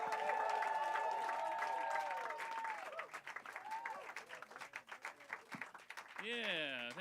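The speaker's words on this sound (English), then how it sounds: "Start clapping right now for Matt MacLean, everybody." A stand-up comedy showcase audience claps and cheers for an arriving comic, sustained applause under a host's amplified voice that thins into scattered claps as he speaks.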